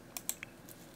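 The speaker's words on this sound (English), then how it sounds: "Clicking sounds." Crisp, quiet clicks from a computer mouse during Sims 4 gameplay, three or four short taps in quick succession, close and isolated against a soft background.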